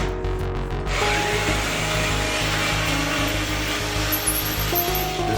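An old Black & Decker lithium-ion cordless screwdriver whirs up and runs steadily, a loud continuous motor drone close by after a brief quieter start.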